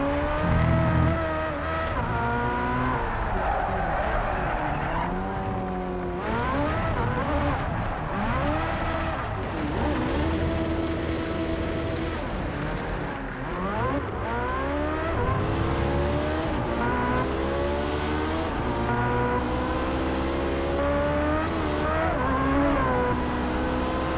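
Race cars in Project Cars 3 rev and shift through corners, engine pitch climbing and dropping in steady sweeps with occasional tire noise, loud and continuous throughout.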